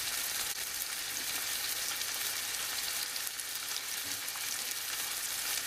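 Mushrooms sizzle in a hot pan with a constant crackling hiss that stays even and close throughout, and nobody speaks.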